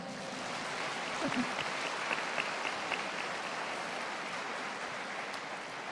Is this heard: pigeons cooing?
no